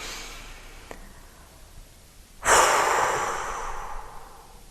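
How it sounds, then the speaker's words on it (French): A person takes a deep inhale on instruction during a guided relaxation exercise, a strong close breath that swells and then slowly tapers off, with no talk. "Ok, inspirez."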